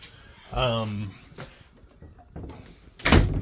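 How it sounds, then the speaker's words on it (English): An interior room door is pushed shut at home, ending in a loud, close thump after quieter shuffling and a brief voice earlier. "I'm going to close this door."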